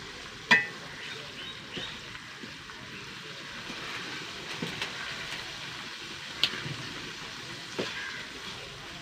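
Hot oil sizzles steadily as turmeric water crackles in it, with faint crackles and a few sharp pops, a continuous frying hiss close by.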